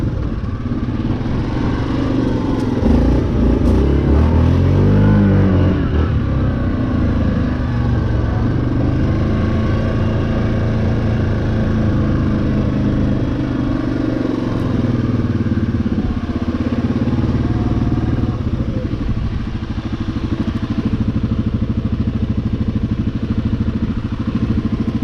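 Yamaha Grizzly 700 SE ATV on Tusk Megabite tires, tearing across grass with spinning tires and a sliding rear end; a steady, close engine drone that holds loud throughout with no talk.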